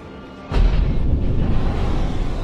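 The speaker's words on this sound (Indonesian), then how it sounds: "Suara ledakan menggelegar dari arah hutan." A deep explosion booms from a forest, a sudden broadband blast that then rolls on as a loud, sustained rumble for about two seconds.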